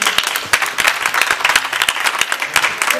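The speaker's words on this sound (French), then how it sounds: "Je vous demande vraiment de les applaudir." An audience applauds at a youth and culture event, a close, fairly loud burst of many hands clapping with crisp individual claps standing out, continuing steadily throughout.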